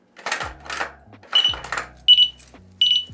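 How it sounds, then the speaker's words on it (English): An electric motorbike's anti-theft alarm gives four short warning chirps, each a rising multi-tone beep with a brief electronic squeal, spaced irregularly and fairly loud. "It has an alarm system."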